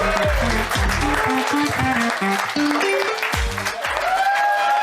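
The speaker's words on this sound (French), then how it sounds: "C'est drôle, on peut applaudir Balthazar" A French comedy-show audience applauds a comedian, a dense, steady burst of clapping with scattered voices and cheers mixed in, close and sustained.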